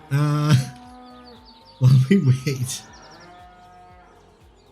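Cows in the Farming Simulator 19 video game let out two loud, drawn-out moos, with someone talking briefly between them and a quiet background hum.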